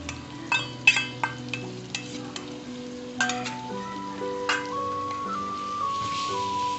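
Whisked yogurt fries with mutton keema in a pan, making a low sizzle with several sharp clinks and scrapes from stirring early on and a steady hiss beneath a soft background tone.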